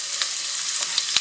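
Onion sizzles in a frying pan with a bright, steady hiss, broken by a few soft stirring clicks, heard close and alone.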